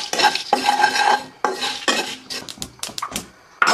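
Whole spices being dry-fried in a pan until fragrant, a spoon scraping and stirring them in loud rhythmic bursts with clinks against the metal and a faint dry sizzle, no talking.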